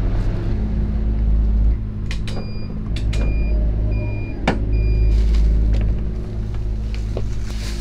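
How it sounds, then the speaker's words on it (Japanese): A constant low rumble of trucks at a highway parking area fills the background, heard from inside a parked Town Ace camper van, with occasional faint clicks and distant traffic passing. "あ、結構トラックの音しますね。"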